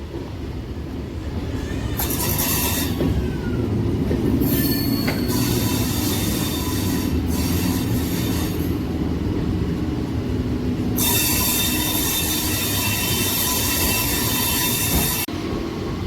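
A Howrah to Belur Math local train runs steadily near Liluah, with continuous rumbling wheels, rattling carriages and bursts of high wheel squeal that rise and fall over the sixteen seconds.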